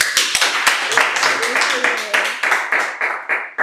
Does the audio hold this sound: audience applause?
yes